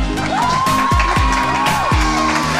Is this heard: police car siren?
no